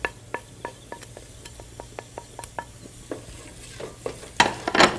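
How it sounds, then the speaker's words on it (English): Rice and dal with turmeric frying in a pan, stirred with a utensil that scrapes and taps the pan in a steady run of sharp clicks over a soft sizzle, then a louder burst of rustling scrapes at the end. "Fry that around for a second or two."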